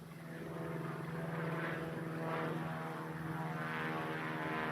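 A propeller airplane climbs in flight, its engine a steady droning buzz with rising and falling pulses of propeller whine, loud and continuous, no voices.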